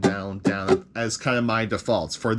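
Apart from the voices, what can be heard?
No everyday noises stand out.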